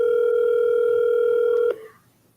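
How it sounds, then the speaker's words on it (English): A steady telephone dial tone hums loud and unbroken, then cuts off with a click, leaving faint room noise behind. "I'm going to just start dialing until I connect with somebody."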